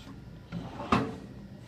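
A toolbox drawer sliding open and shut, giving a short soft scrape followed by a sharper thud of metal, close and alone.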